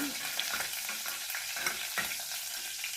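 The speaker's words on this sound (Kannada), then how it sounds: "ಇದನ್ನು ಒಗ್ಗರಣೆ ಮಾಡ್ಕೊತಾ ಇದ್ದೀನಿ" Mustard seeds, cumin and curry leaves sizzle steadily in hot oil while tempering for a traditional drumstick sambar, with a continuous close crackle and a few sharper pops throughout.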